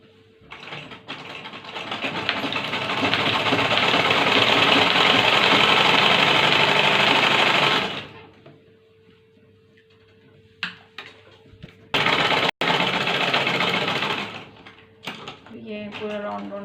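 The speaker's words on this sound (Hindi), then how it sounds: "मैं इसकी सीवन लगाऊंगी।" A sewing machine stitches a round seam on a shrug, running loud and fast for several seconds, pausing, then whirring again in shorter bursts, with someone talking in the quieter gaps.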